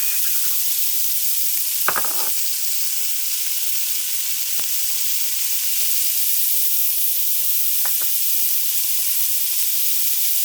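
Onion and celery sizzle in a pan for chicken cacciatore, making a steady, close frying hiss with a few scraping stirs and clinks from a utensil breaking through.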